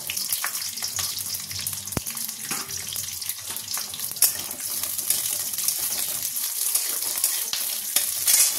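Onion frying in hot oil in a kadai, a steady bright crackling sizzle running throughout with occasional stirring clinks and scrapes, close and fairly loud.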